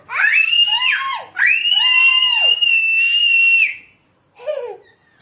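A child screams loudly in long, piercing, wavering shrieks, two sustained bursts followed by a shorter cry after a brief pause.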